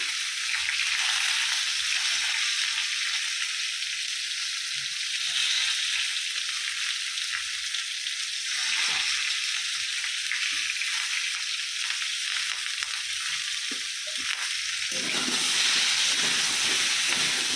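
Spices for a paneer curry frying with cumin powder, heard as a loud, continuous, close hiss and sizzle with no talking that holds steady, then grows slightly fuller near the end.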